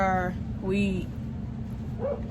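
An indoor dog lets out a couple of high, short barks and whines close by, with a brief yelp near the end, mixed with a voice.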